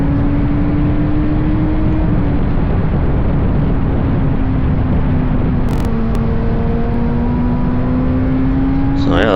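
Race car at speed on the Mosport circuit, a steady loud engine drone with a sustained pitch that dips slightly and climbs again, constant road and wind rumble throughout.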